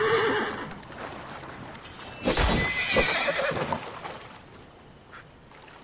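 A horse gives a single loud whinny in the middle, with softer snorts and rustling around it and no talking.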